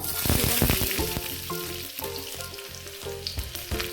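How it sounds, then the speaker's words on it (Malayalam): Mustard seeds hit hot oil and sizzle loudly, a dense crackling fry close by that stays strong and steady throughout, with no talking over it. "ചൂടായിട്ടുണ്ട് അതിലേക്ക് നമുക്ക് കടുക് കടുക് ചേർത്ത് കൊടുക്കാം"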